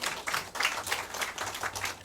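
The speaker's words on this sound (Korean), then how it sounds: "박수로서 환영해 주셨으면 좋겠습니다" An audience at a cultural center lecture claps to welcome the lecturer, producing brief, moderately loud applause with a loose, uneven rhythm.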